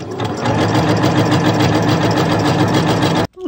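A sewing machine with a special presser foot runs fast and steady through dense fabric, a loud continuous rattling hum for about three seconds that stops abruptly.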